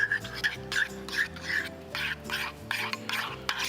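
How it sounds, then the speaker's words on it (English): A sweet mixture with black salt stirred in a bowl, rhythmic scraping strokes repeating loud and close, with a few clinks against the bowl. "We'll give it a nice mix."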